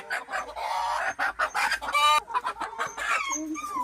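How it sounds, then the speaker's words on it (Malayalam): Native grey rooster clucking and calling in a run of close, loud bursts, with a short crow-like rising call near the middle and other chickens chattering around it. "ഇത് നമ്മളിലുള്ള ഒരു ഗ്രേ കളറിലുള്ള ഒരു പൂവൻ കോഴിയാണ്."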